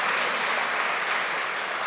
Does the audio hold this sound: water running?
no